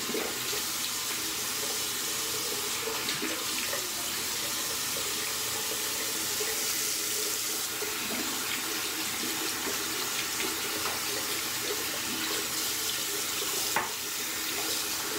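Tap water running into a sink for wetting the face before shaving, a steady close hissing gush that continues unbroken throughout with a faint clink near the end and no talk.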